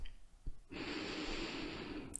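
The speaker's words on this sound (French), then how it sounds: "On a tous respiré en même temps que moi" A group breathing in unison during a guided meditation, one long, steady, airy exhalation that sustains after a soft start, close and fairly soft with no talk.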